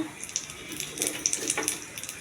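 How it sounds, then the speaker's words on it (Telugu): Urad dal with husk fries in hot oil in a pan, a close, crackly sizzle with quick popping and spitting spikes throughout. "పొట్టుతో ఉన్న మినపప్పు, అది కొంచెం తొందరగా వేగదు, ఫస్ట్ అది వేగించాలి"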